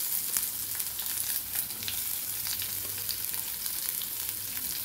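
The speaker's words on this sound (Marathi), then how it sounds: "हे टाकून झाल्यानंतर यामध्ये कांदा टाकून घ्यायचा" Chopped onion frying with whole spices such as a bay leaf, for a vegetarian anda curry, sizzling steadily and loudly in hot oil with a dense, continuous hiss and no voices.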